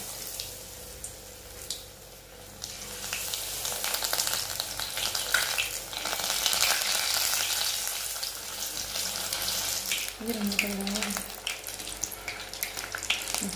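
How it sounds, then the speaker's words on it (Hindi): Battered cauliflower pieces sizzle and crackle in hot oil on a stove, a steady, close hiss that swells in the middle, with occasional stirring and clinking and no talking. "இப்போ நம்ம இந்த காலிஃப்ளவர்லாம் இதல டிப் பண்ணி அதல போட்டுக்கலாம்"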